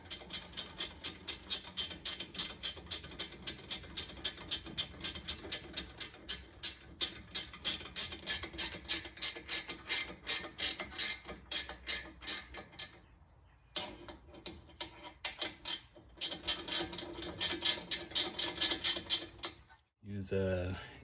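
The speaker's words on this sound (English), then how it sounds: "Tighten your bolts." Rapid ratcheting clicks from a wrench tightening bolts on 2013-2017 Honda Accord front brakes, a steady close ticking run that pauses briefly then resumes before stopping.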